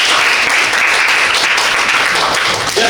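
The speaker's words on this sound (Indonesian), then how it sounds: "Oke, tepuk tangan untuk Mas." An audience applauds a speaker at an Indonesian university teaching-certification session, a dense, even wash of many hands clapping that runs loud and unbroken throughout.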